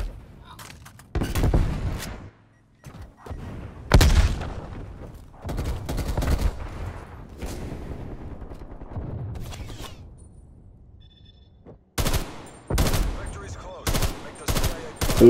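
Gunfire in Call of Duty: Black Ops Cold War, with sharp single shots and short bursts separated by gaps and a rapid cluster of reports near the end, plus faint game sounds in between.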